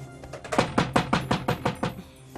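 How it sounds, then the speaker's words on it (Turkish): A run of about eight sharp knocks in a steady rhythm, fairly close and loud, with no voices. "Ay kapı çalıyor, kapatıyorum."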